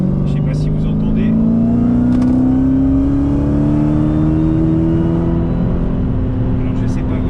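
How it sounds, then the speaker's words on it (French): A Dodge Challenger Hellcat accelerates hard, its supercharger whine rising steadily in pitch over the engine's roar, heard close from inside the car with faint voices briefly at moments. "je sais pas si vous entendez le compresseur, mais c'est vraiment top"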